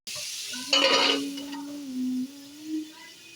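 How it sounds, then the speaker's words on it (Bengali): Diced potatoes and pointed gourd fry in a pan and are stirred, with a burst of sizzling and scraping, a few light utensil clinks, and a sustained tonal hum running underneath. "নাড়িয়ে চাড়িয়ে ঢেকে রাখবো, ঢেকে ঢেকে ভাজা ভাজা করে নেবো"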